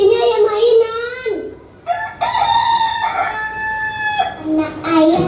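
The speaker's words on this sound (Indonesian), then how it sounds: "Ini labu isinya ayam mainan" A toy chicken pops out of a pumpkin and crows loudly and close, giving a long wavering cock-a-doodle-doo, a short break, then another drawn-out crow with clucking notes near the end.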